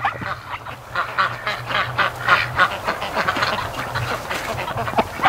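Ducks in deep snow give a steady run of honking quacks, several birds calling close by in quick overlapping bursts with no talk.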